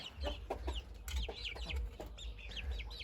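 Hens, roosters and chicks cluck and peep in a coop, several birds close by in overlapping bursts, with a few chirps rising above the steady clucking.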